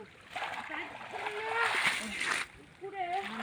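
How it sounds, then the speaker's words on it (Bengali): Water splashes and sloshes as pond weeds are pulled out of a weedy pond while catching fish, with bursts of splashing close by under a person talking. "আমি এরকম করে ঝটাপট সব পানা তুলে মাছটা ধরে নেব"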